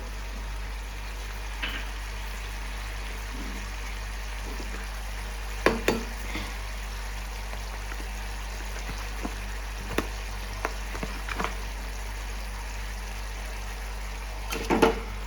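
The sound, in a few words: fish masala being stirred and frying in a pan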